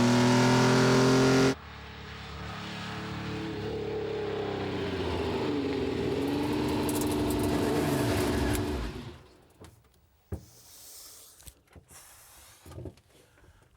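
A 3-litre Alfa Romeo Tipo 33-3 racing car engine revs and accelerates with a rising, sweeping mid-pitched roar that fades away, leaving scattered quieter mechanical noises.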